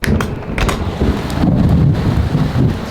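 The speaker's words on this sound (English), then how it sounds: "Starlink stopped working in this storm." A storm with rain, wind and thunder: a dense, continuous roar of rainfall and gusts, with deeper rumbling swells throughout.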